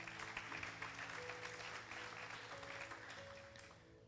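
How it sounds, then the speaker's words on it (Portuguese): An audience applauds after a sermon, a dense burst of clapping that fades slightly toward the end, with some musical tones sustained underneath. "Pode aplaudir."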